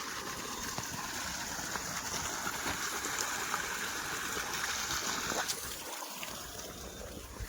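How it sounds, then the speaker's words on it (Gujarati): Water runs steadily into a cattle trough on a farm, a continuous close trickling and gurgling flow with a brief low thump near the end. "આ જો ચાટામાં પાણી ચાલે છે."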